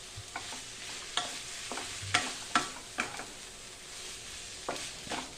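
Chicken being stir-fried with spices in a pan for a Bengali chicken bharta, with a low sizzle under repeated sharp scraping and clinking strokes of a spatula against the pan.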